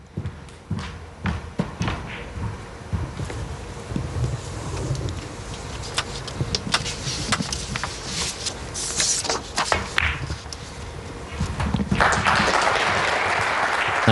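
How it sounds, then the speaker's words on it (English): Audience applause at a Scottish Open 2023 snooker match between Gary Wilson and Xing Zihao, steady sustained clapping throughout the arena with a light, dense patter, swelling louder near the end. "And that applause is richly deserved"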